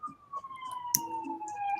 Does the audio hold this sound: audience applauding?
no